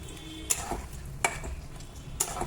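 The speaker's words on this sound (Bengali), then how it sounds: "এখন আমি এই কোফতাগুলো দিয়ে দিচ্ছি, আলু আর কোফতাগুলো।" A few soft stirring clacks, about three, rise over a faint sizzle as koftas and potatoes cook in a cream and garam masala gravy, quiet and close, with no talk.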